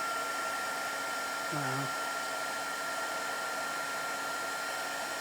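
An electric heat tool blows a constant loud whooshing hum while heat embossing a handmade card, steady throughout, with a brief exclaimed word partway through.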